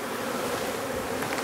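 Honey bees buzz in a dense, continuous drone during a shook swarm, loud and close with a steady unbroken hum and no voices.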